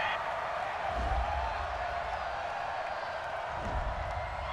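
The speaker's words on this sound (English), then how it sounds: "Well, the crowd doesn't like that." Stadium crowd at an NFL game between the Tampa Bay Buccaneers and Los Angeles Rams, a broad steady roar of disapproval after a penalty flag, loud and sustained with no clear break throughout.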